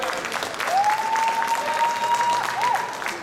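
Audience applause at a women's figure bodybuilding competition, steady close clapping with a long whistle rising through it and a short second whistle near the end.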